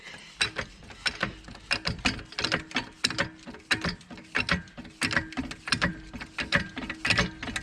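A Halfords 3 ton hydraulic trolley jack is pumped up with a rhythmic series of close mechanical clicks and clanks, roughly two strokes a second, with a steady faint hum underneath.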